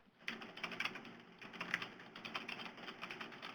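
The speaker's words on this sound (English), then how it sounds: "somebody needs to mute their phone while they're typing." Rapid keyboard typing comes through an open phone line on a conference call, a quick run of clustered key clicks in bursts, slightly muffled and thin, with no talking.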